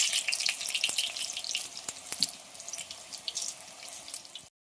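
Brinjal (eggplant) slices fry in hot oil with a steady, bright sizzle and crackle. Small pops are scattered across it and no voices are heard. The sound cuts off abruptly at the end.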